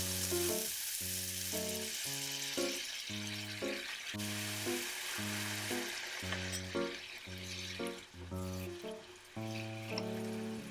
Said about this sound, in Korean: 머리 먼저 볶아주고 이때 콩나물국을 조금 넣어서 볶아주면 더 좋습니다